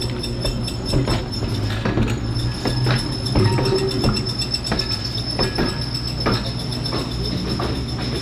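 Union Railway car 316, a historic trolley built in 1895, rolls into a trolley museum with rumbling wheels, steady clickety-clack joints and a thin squeal of wheels on rail, close by and fairly loud.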